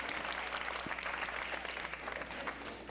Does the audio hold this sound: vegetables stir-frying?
no